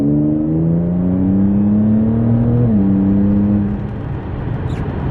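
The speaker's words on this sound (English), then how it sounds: "this time I'm going to do a pull with it in drive" A tuned Audi V6T accelerates hard in drive, its engine note climbing steadily in pitch, dipping briefly at a gear shift, then pulling on before easing off, heard loud from inside the car with no talking.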